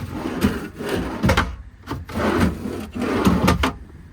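Small drawers in the rear compartment of a 2019 Ford F-550 mechanics truck's service bed slide open and shut several times in a row, with wooden rubbing scrapes and soft thuds, close by and with no talking.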